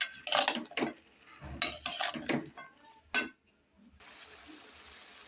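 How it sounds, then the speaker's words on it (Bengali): Dried lote fish and vegetables being stirred and fried in a pan, with bursts of clattering utensil scrapes and clinks against the metal, then a pause and a soft, steady frying hiss. "এখন আমি এইগুলোকে এইভাবে আবার নাড়াচাড়া করব কিছুক্ষণ ভাজতে থাকবো এইভাবে"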